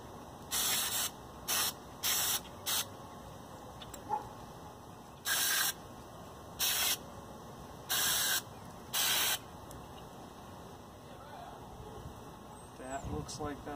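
Carb cleaner sprays onto a Honda Ruckus carburetor in a series of about eight short, sharp hissing bursts of varying length, separated by quiet gaps.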